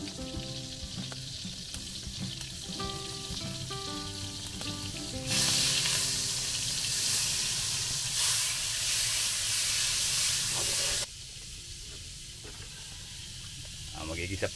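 Garlic and onion sauté in margarine for a countryside goat stew, a loud hissing sizzle swelling midway then dropping back, with background noise around it.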